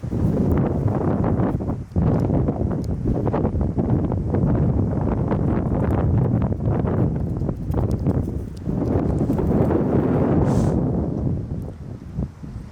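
Wind blows outdoors during a dog scent detection exercise, buffeting the microphone in loud, continuous gusty roaring with a brief dip near the start and a lull near the end.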